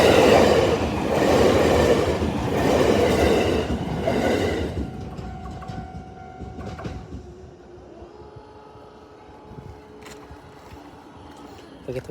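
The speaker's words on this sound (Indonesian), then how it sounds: "Satu kereta." A train rumbles past close by in the Kawagoe area of Japan, loud and steady at first, then fades into a lingering rattle and faint metallic squeals as it recedes.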